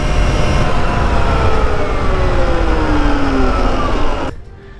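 A Talaria Komodo electric motorbike accelerates hard in a drag race, giving a steady loud whine with rising and falling tones that rush past close by, then cut away abruptly near the end.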